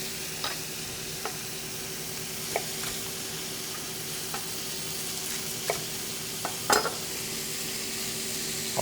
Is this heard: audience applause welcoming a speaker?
no